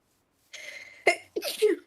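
A single sneeze bursts out during a Minecraft Bedrock survival game, close and fairly loud, with quick breathy voiced sounds around it.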